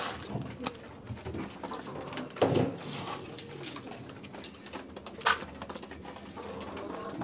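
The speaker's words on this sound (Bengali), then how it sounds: "আমাদের প্রায় শেষ খেতে আছে দুটা কবুতর কিন্তু ভালোভাবে খাইতে আসছে" Pigeons in a loft feeding and cooing, with soft pecking, wing flutters and low coos scattered across the stretch, plus a couple of sharper bursts standing out among steady background noise.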